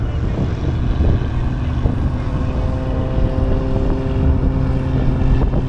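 Several light aircraft engines start up ahead of a ten-aircraft air display at an airfield, making a loud, steady propeller drone that continues throughout.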